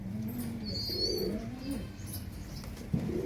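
Karna breed pigeons on a pigeon farm coo in low, soft, repeated phrases at close range, with a few thin chirps from other birds mixed in.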